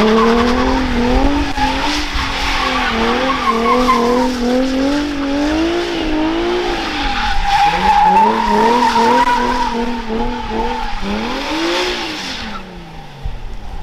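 Mazda RX-7 with a V6 swap drifting, its engine revving hard and wavering as the tires squeal loudly and continuously, close and sustained before the sound eases off at the end.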